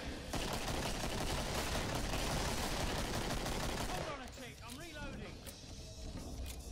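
Rapid 9mm pistol gunfire in the video game Killing Floor, dense overlapping shots that stop after about four seconds, with players talking and game sounds afterward.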